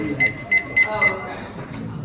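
A timer alarm sounds four quick, evenly spaced high-pitched beeps, close and clear, in a physical therapy setting, followed by a brief quiet tail.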